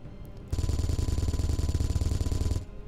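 Automatic gunfire in the Space Engineers video game, a sustained rapid burst of loud, evenly spaced shots lasting about two seconds before stopping.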